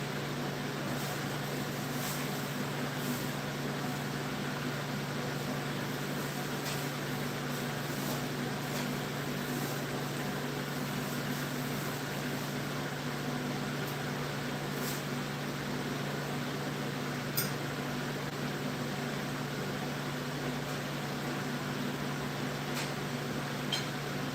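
A running clothes dryer gives a constant mechanical hum with a low drone and broadband whoosh, unchanged throughout, with occasional faint clicks; no talking.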